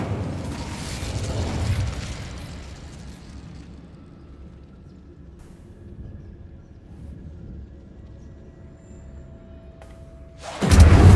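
An Incendio fire spell cast in Hogwarts Legacy erupts as a loud, roaring burst of flame, then fades into a low, quiet rumble before a second heavy blast hits at the end.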